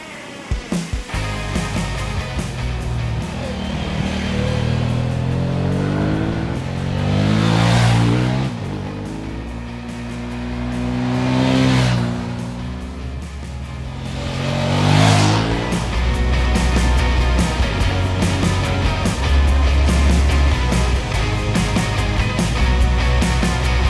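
A Suzuki production motorcycle engine revs continuously while being ridden, its loud steady drone swelling and fading in three passes as the rider accelerates and backs off.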